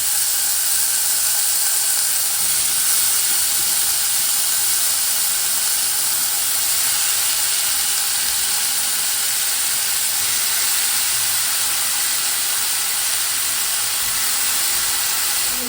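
Vegetables sautéing in a hot pan for a Kerala lunch of tomato rice and thoran, giving a steady, loud, continuous hiss and sizzle that holds evenly throughout with no talk.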